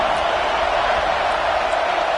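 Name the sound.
football stadium crowd reacting to big third-down play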